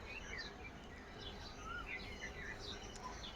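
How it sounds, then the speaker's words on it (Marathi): Sparrows and other small birds chirping in the morning near an onion field, scattered faint tweets and short calls repeating throughout over a steady low background hum. "पहा कसा चिमण्यांचा वगैरे पक्ष्यांचा आवाज येतोय"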